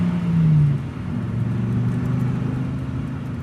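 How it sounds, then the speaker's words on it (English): A car drives along with a steady, close engine hum and low rumble. A brief swell at the start settles into an even drone, with no talk. "The car is moving towards our destination."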